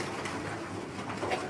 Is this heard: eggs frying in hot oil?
no